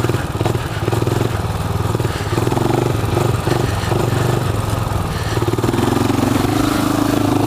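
A motorcycle engine roars loud and close at high revs, a sustained droning pull with slight surges and dips in pitch, as the bike is held up on its rear wheel in a wheelie.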